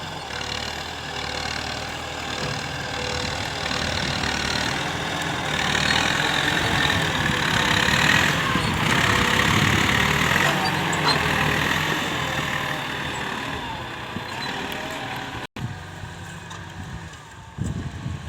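A Ford 7740 tractor plows and harrows rubber-plantation furrows in a wet field, its diesel engine droning steadily and swelling under load, with a sharp clunk near the end.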